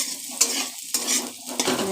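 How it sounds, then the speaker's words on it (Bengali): Elephant foot yam pieces frying in oil, a close bubbling sizzle broken by several scraping stirs of a utensil in the pan. "এবার ওলগুলোকে লাল লাল করে ভেজে নিচ্ছি।"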